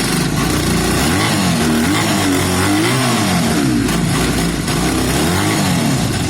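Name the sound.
twin-cylinder motorcycle engine running after starting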